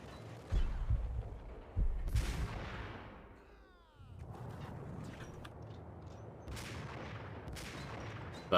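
Gunfire in the Max Payne video game: two sharp shots ring out near the start, followed by a dense, continuous stretch of rattling weapon fire and noisy action with more bursts later on.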